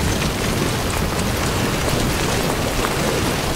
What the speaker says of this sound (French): Ah, la pluie.